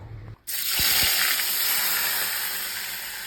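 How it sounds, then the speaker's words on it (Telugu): Onions and green chillies frying in a pan for an egg and taro tamarind stew, a sudden burst of steady hissing sizzle after a short quiet start, with a couple of clanks near the beginning. "ఉల్లిపాయలు, పచ్చిమిరపకాయలు ఫ్రై అవ్వాలండి"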